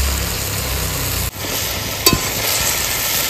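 Tender telakucha greens drop into a boiling rohu and tomato fish curry and are stirred, giving a loud, steady bubbling sizzle broken by a brief dip and a sharp clatter of the spoon against the pot.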